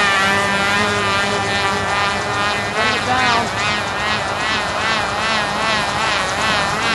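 A small 049 glow engine on a single-blade radio-controlled model helicopter buzzes loudly and continuously with a wavering, pulsing pitch, hovering close by.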